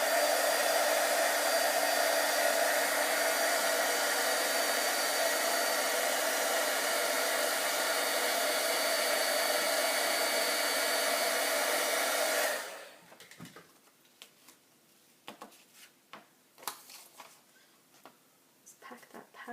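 A heat tool blasts steadily to set embossing powder for a card project, a loud continuous blowing roar that cuts off abruptly partway through, leaving quiet small clicks and handling sounds.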